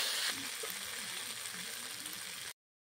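Boiled chickpeas and potatoes frying in spice masala in a pan, giving a steady close sizzle with soft stirring scrapes throughout before cutting off abruptly.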